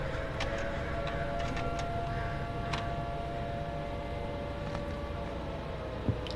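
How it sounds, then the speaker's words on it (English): A wailing air raid siren drifts through the background of the 1950s-set video game Summer of '58, a steady held tone over a dense, noisy ambience with faint ticks and one sharp knock near the end. "I don't like that air raid sound."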